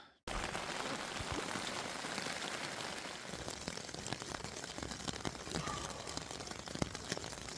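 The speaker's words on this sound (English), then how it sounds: "It is still raining." Steady rain patters on a winter bushcraft survival shelter at camp, a dense, even hiss of drops close by with occasional louder individual taps, no talk.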